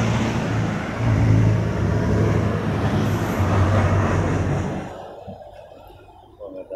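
A Toyota 3AU engine runs in a box-type vehicle, giving a steady, fairly loud drone that fades out over the final couple of seconds.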